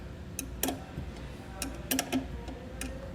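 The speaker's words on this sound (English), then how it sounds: "We'll just pop that off with a 10mm socket or wrench here." A socket wrench backs a 10mm nut off a screw while wiring a Blue Ox tail light kit on a towed vehicle, giving quick light ratcheting clicks in short irregular bursts, close and fairly quiet.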